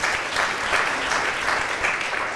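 Audience applause at an exhibition program, a steady wash of clapping from a crowd, fairly loud and continuous throughout with no voices over it.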